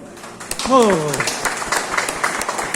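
Audience applause welcoming a speaker at a lecture in a temple hall: scattered claps under a brief voice, steady light clapping continuing to the end.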